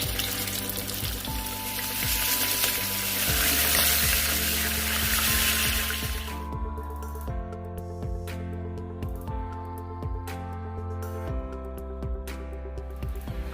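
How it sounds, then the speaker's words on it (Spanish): Beef steaks sear in hot oil in a heated frying pan, giving a steady crackling sizzle that runs throughout, loud at first and then settling, with no talking. "Le vamos a agregar suficiente aceite para empezar a sellar nuestros bisteces."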